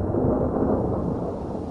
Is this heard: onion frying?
no